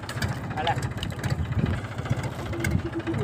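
A tractor engine runs steadily in a farm field, a low continuous idling rumble that stays close and even throughout, with people talking over it.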